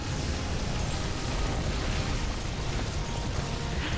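Mothership explosion in a StarCraft match, heard as a dense, steady roar of blast noise filling the whole short stretch, loud and continuous without distinct separate booms.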